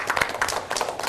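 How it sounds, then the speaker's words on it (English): A round of applause from a seminar audience at a YouTube marketing training event, a short soft patter of clapping heard at a distance. "Can we get a round of applause?"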